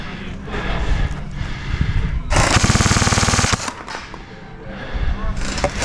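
A CYMA M16A1 Vietnam-era gel blaster fires a rapid full-auto burst of sharp cracks lasting about a second, set between quieter stretches of rattling mechanical noise and background clatter.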